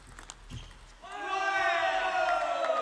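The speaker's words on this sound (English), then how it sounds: "Cheer from the Texas Smash bench" Shouted cheer from the Texas Smash team bench at a Major League Table Tennis match, a few ball taps followed by a loud group yell that swells after a second and holds to the end.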